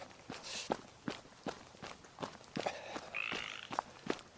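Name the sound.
tree frog croaking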